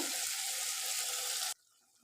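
A cup of water is poured into a hot cooking pot of tomato chutney, giving a loud, steady hissing sizzle that cuts off abruptly after about a second and a half, leaving a faint background.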